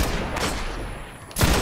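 Gunfire in the video game Destiny on PS4: a burst of rapid shots, a single crack a moment later, then a louder heavy blast at the end, all close and dense with no talking.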